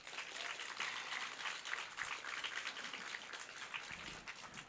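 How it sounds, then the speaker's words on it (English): Distant, fairly faint applause from an audience at an arts awards ceremony following a performance, an even wash of clapping that continues steadily throughout. "Let's give them another round of applause."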